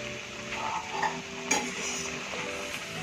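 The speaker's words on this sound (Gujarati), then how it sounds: "મેગીમાં એક ઉબાલ આવી ગયો છે, આમાં આપણે થોડુંક તેલ એડ કરી દઈશું" Maggi noodles boiling in a pot of water with a little oil added, a steady bubbling sizzle with a few light clinks and stirring scrapes, close and moderately quiet, no talking.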